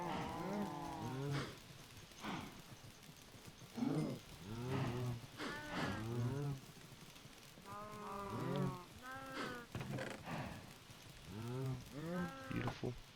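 Cows in the Minecraft video game moo repeatedly, a steady run of overlapping low, drawn-out calls through the whole stretch, fairly loud and close, with no talk over them.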